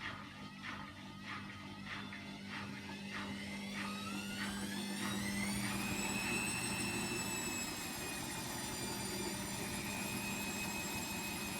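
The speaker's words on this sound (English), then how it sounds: "There, it's spinning a bit now, but that's not 1400," An Indesit Moon washing machine on the spin of a 40 wash near the end, a steady whirring drone with rhythmic tumbling thumps early on, then a rising whine as the drum speeds up and holds.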